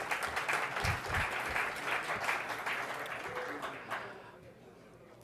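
Conference audience applause for a team member at NewSpace 2017, with a crowd clapping steadily for about four seconds before it dies away to a low room murmur.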